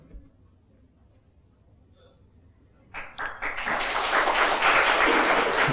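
An audience at a religious lecture hall stays quiet for about three seconds, then breaks into applause that swells quickly and holds as sustained, dense clapping from many hands.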